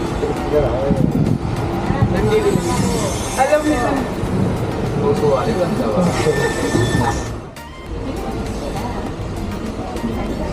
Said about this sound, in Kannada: ಇವಾಗಲೇ ಜಸ್ಟ್ ಟ್ರೈನ್ ಸ್ಟಾರ್ಟ್ ಆಗಿದ್ದೀವಿ ಮಂಗಳೂರಿಂದ